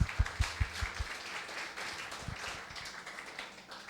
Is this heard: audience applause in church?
yes